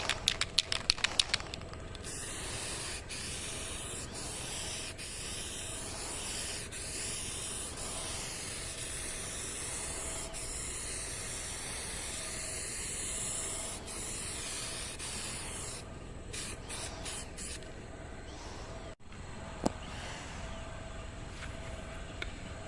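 Spray gun laying a wetter second coat of 1K primer filler, a loud continuous hiss lasting most of the stretch, with a few short bursts at the start and near the end.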